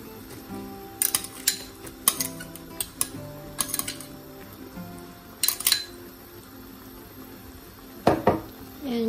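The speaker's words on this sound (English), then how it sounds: "Add the bamboo shoot." Bamboo shoots go into a pan of coconut milk with fish for a saluyot dish, bringing close clinks and clatters of utensils against the pan in scattered bursts over a low simmer, with a louder clatter near the end.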